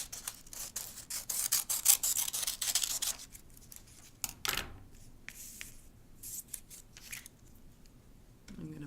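Scissors snip through a thin strip of book page in a few quick, crisp cuts followed by softer paper rustling, close and clear with no talk.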